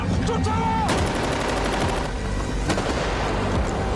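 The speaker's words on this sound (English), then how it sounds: "I like how these gunshots sound really loud." Rapid, loud gunfire crackles almost nonstop in dense volleys, with sharp reports and echoing booms, like a firefight in a game.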